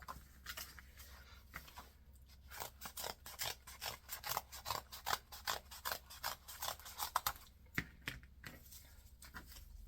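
Scissors cutting through book pages in small bunches: close, crisp snipping and crunching in quick irregular bursts, with a brief pause partway through.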